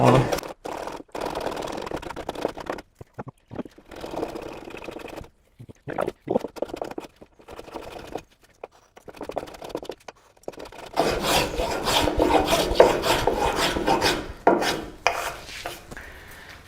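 Rali 220 Evolution hand plane set to a deeper cut, planing a wooden board in bursts of rasping, shaving strokes separated by short pauses, growing denser and louder toward the end with no talk.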